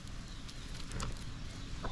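A GSB hen clucks in a farmyard in Baixa Grande, a few short soft calls over a constant wash of outdoor background noise.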